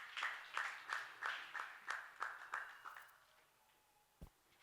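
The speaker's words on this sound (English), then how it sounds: "Another round of applause for Pastor Amon." Applause for Pastor Amon at a church teaching session, a short run of faint, evenly spaced claps that fades out after about three seconds.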